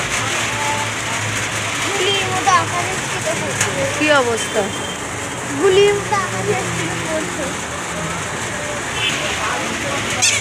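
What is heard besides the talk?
rain starting to fall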